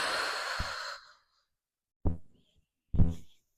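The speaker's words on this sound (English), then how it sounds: "Exhale." Breathing during a beginner Pilates mat class: a long, steady exhale fades out, and two short, close breaths follow after a pause of silence.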